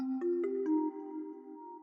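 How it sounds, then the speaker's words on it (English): Soft electric piano chords layered with bright bell-like synth tones in a beat, a few quick chord changes at the start, then a sustained ringing chord fading slowly. "It's kind of like an E piano layer to some bells."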